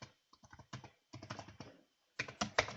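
A password is typed on a computer keyboard in quick, quiet bursts of close key clicks separated by short pauses, with no talking.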